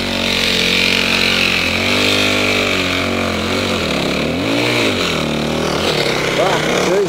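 A loud motorcycle engine revs and bogs as the clutch is dumped, its pitch sweeping up and down over a steady roar, with voices talking over it.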